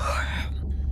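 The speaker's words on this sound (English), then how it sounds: "Was that a yawn?" A character in the underwater video game Beyond Blue gives a brief, breathy yawn that trails off quickly, heard close and soft.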